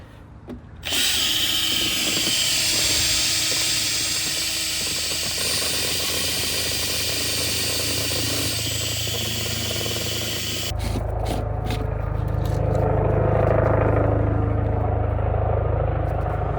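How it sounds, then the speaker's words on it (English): A power drill fitted with a whisk whirs loudly and continuously, churning a liquid lawn-repair mix, the motor pitch shifting partway through, with no talking. "Now it's important to give this a good mix, so we're going to use the drill and a whisk"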